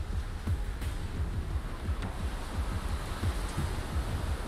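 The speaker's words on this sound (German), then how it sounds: "Der Wind scheint ja auch stärker geworden zu sein." Wind blows steadily in a video game, a dense, continuous rushing roar with low rumbling swells and no voices.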